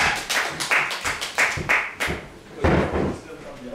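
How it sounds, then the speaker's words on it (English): A small room audience claps a quick round of applause as a man returns, sharp scattered hand claps in a brief burst that fades, with a voice speaking near the end. "Just have a round of applause and give Kieran back in the room."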